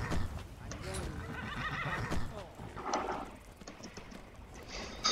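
A horse in a video game whinnies and neighs over the clatter of its hooves, fairly close, with a voice talking alongside.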